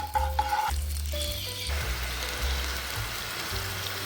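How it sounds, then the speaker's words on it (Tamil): Milk coming to a boil in a pan with melted ghee for Indian milk peda, giving a soft, continuous sizzling bubble close up, with a few utensil clinks at the start. "நெய் நல்லா உருகுனதும் 150 ml பாலுங்க. பால் நல்லா காஞ்சி பொங்கி வரட்டும்."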